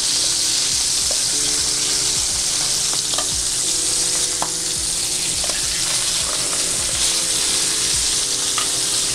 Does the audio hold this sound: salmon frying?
yes